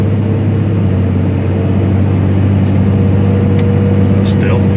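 Inside the cab of a 1000HP twin-turbo diesel truck while riding, a deep, steady low rumble of engine and road noise fills the background, fairly subdued, with people talking over it.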